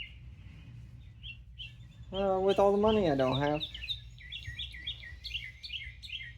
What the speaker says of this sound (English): Also, surprise, the birds are back. They won't shut up.